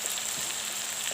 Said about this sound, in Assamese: এনেদৰে 5-6 মিনিটমান সময় ভজাৰ পাছত দেখিলোঁ মাংস তেল এৰিব ধৰিলে